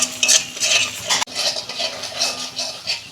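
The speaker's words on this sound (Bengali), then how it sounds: "2 মিনিট আমি মশলাটাকে কষতে নেব।" Chilli powder and turmeric sautéed in a pan give a close metallic scraping and clinking of a spoon, repeated in short strokes over a soft sizzle, with no talk.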